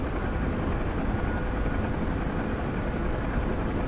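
Steady helicopter rotor and engine drone inside a flight simulator game cockpit, a continuous loud broadband rumble with no breaks.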